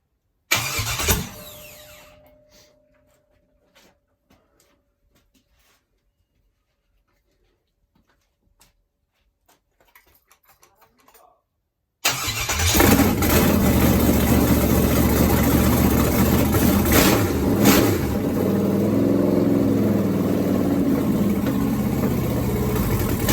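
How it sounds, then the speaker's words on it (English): A carbureted LQ9 V8 in a 1973 Firebird makes its first start after an LS swap. Near-silence with faint clicks gives way to the engine cranking, catching and settling into a loud, steady, rumbling idle that runs to the end. "Just fire up."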